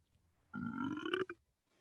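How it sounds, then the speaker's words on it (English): A single deep, drawn-out burp, close and fairly loud, lasting under a second and ending in a short clipped tail, with silence before and after. "Burp."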